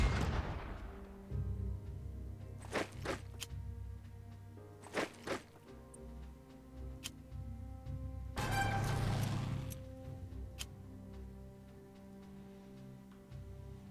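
Artillery bombardment in the strategy game Unity of Command II, with several sharp booming blasts, some in quick pairs, and a longer rumbling barrage in the middle over a low steady game backdrop, no talking.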